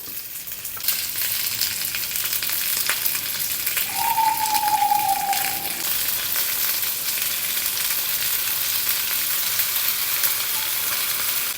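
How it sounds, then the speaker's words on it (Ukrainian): Steady sizzling of dumplings frying in a pan over medium heat runs throughout, with a brief whistling tone partway through and no talking. "на середньому вогні обсмажуйте до золотистої скоринки"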